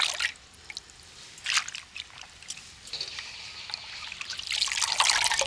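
Potato slices are washed by hand in a bowl of room-temperature water, with close trickling, sloshing and dripping sounds that swell into a louder swirl toward the end.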